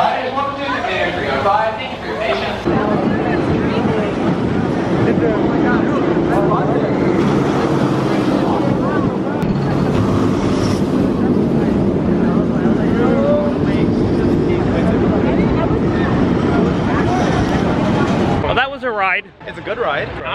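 Loud, steady rush of wind and rumbling track noise from a roller coaster ride at Kings Dominion, running continuously for most of the span before dropping off sharply near the end, with people talking over it.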